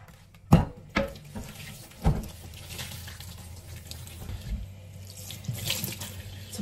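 A kitchen sink faucet runs steadily while dishes are washed, with a few sharp clinks of dishware near the start over the continuous rush of water.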